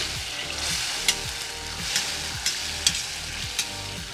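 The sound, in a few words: tomato frying in a cauldron over a campfire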